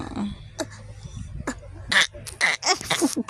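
Several short, rough coughs and throat-clearing sounds come in quick bursts, fairly close, with small vocal noises between them.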